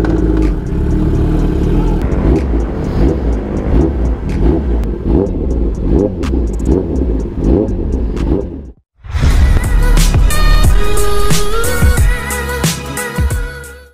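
A 2022 Kawasaki ZX10R sport motorcycle revving hard, loud close engine roar rising through repeated pulses, a brief cut near the middle, then a strong high-pitched rev sustained before fading.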